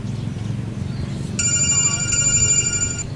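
A telephone starts ringing partway through with a bright electronic trill that continues steadily over low background murmur and room noise.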